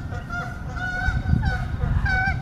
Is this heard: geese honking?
yes